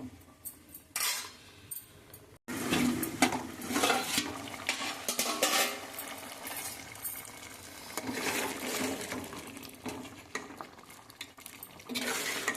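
A spoon scrapes and clinks against a metal pot while prawn gongura curry is stirred and mixed, giving irregular bursts of clatter with a brief pause near the start and no talking.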